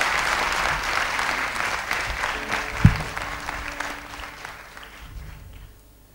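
An auditorium audience gives sustained, full applause to sitar player Ustad Shahid Parvez at a Hindustani classical concert. The clapping holds steady, then gradually thins and fades toward silence.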